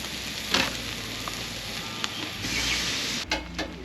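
Eggs frying in a pan, aimed at crispy over easy, with a dense continuous sizzle and crackle that pops now and then, heard close and steady from start to end.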